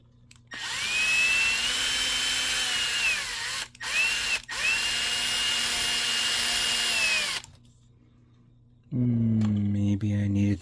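A handheld power drill whines at steady high speed while boring into a plastic part for a 1/48 MegaScale Zaku II model kit, running in two long bursts with a short pause, then a lower motor tone at the end.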